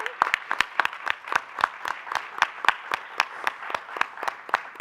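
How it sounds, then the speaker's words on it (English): A small group at an advisory board meeting applauds an educator. Sharp, distinct claps ring out in a quick, fairly regular rhythm, close and clear, with few hands and no talking. "Let's give Mr. Chavaria a round of applause again."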